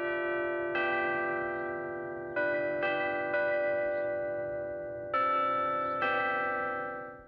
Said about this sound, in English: it is the ringing of the bells